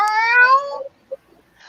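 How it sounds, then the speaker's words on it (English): A cat gives one clear, drawn-out meow close by, followed by a tiny chirp, alone with no talk. "it was nice to hear you meow for a while"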